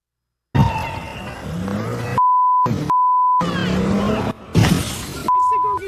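Steady 1 kHz censor beeps cut over a swear word in footage of an ICE shooting, several flat tones of varying length alternating with loud, rough, distorted street audio and shouting voices.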